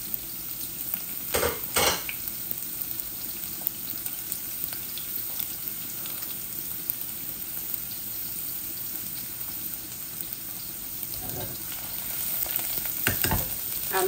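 Cumin seeds and garlic cloves fry in hot oil with a constant soft sizzle, marked by a few sharp clatters of utensils against the pan.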